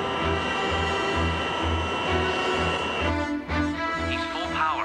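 Airliner jet engines roar at full takeoff power with a steady, loud drone, while a voice speaks over the noise near the end.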